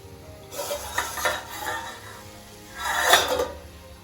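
Ghee in a kadhai for halwa, stirred with a metal spoon, giving scraping, clinking strokes over a soft sizzle, with two louder swells of stirring.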